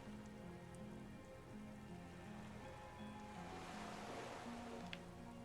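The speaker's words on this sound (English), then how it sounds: "The soft raindrops." Soft rain falls steadily on a reedy islet in Disco Elysium, a dense gentle patter of drops over faint lapping water, with a quiet low musical drone beneath and no talk.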